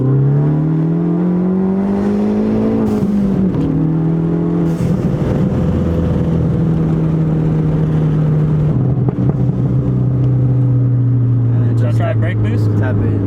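A tuned Ford Focus ST engine is held and revved in second gear, a loud, close droning note that climbs, dips and steadies again, with people talking over it.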